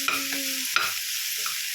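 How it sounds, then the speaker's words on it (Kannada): A radish mixture is dry-roasted and stirred in a pan, with a couple of sharp scraping strokes and a soft sizzle in a short, close burst. "ಹಸಿ ವಾಸನೆ ಹೋಗೋವರೆಗೂ ಹುರ್ಕೊಳ್ಳೋಣ."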